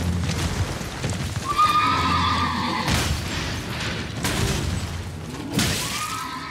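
A horse in the Elden Ring video game whinnies loudly and gallops with clip-clop hooves. Game effects include a crash and thuds, and there is no talk.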